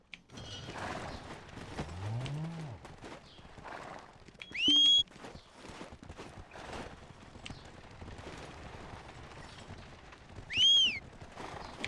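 Steady horse hoofbeats clip-clop throughout over ambient music in the game Black Desert Online, with two short whinnies rising above them.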